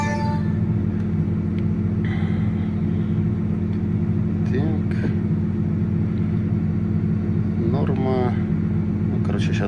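A farm tractor seeding wheat in Canadian summer heat runs with a steady, loud, close diesel drone that holds unchanged the whole time, with faint brief sounds rising over it.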